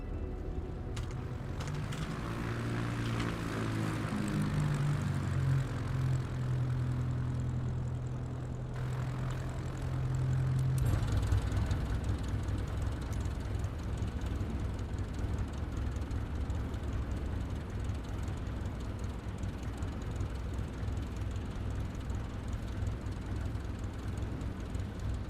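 Aircraft taking off in Microsoft Flight Simulator 2024, a steady loud engine and propeller drone building and then holding at a constant roar, with no talking throughout.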